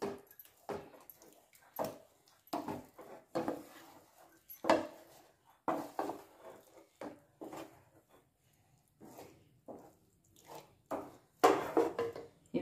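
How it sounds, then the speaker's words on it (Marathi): A spoon stirring an ambadi flower (roselle flower) dish in a pan, giving close, intermittent bursts of scraping and soft squishing in short strokes with brief pauses between them, no voices. "मी छान हलवून घेते."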